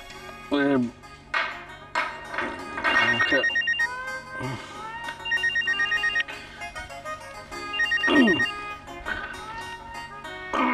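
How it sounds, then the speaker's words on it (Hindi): A telephone rings with an incoming call, a repeating electronic ringtone pattern sounding in several bursts, mixed with voices and dramatic music from a Hindi TV serial scene. "और मम्मी का फोन आ रहा है।"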